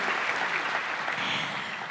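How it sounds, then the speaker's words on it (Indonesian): A church congregation claps loudly and steadily throughout, a dense, sustained wash of applause from a large crowd. "beri tepuk tangan yuk buat Tuhan kita Yesus Kristus"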